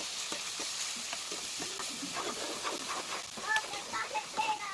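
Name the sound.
tomatoes added to fish curry, frying in ginger garlic paste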